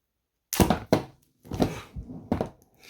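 A camera stand knocked over, giving a few hollow thuds and clatters, close and distinct with short silent gaps between the knocks.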